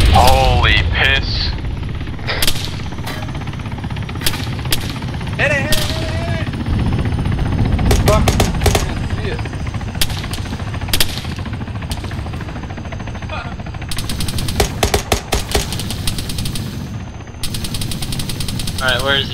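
A military helicopter in ARMA 3 thrums amid a chaotic battle, its rotor noise mixed with bursts of machine-gun fire and sharp gunshots, while players shout over the din.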